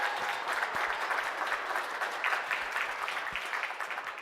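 A crowd claps for the Wolves of Cub Scout Pack 618 at a studio game show, dense steady applause with some scattered louder claps, moderately distant and continuous throughout.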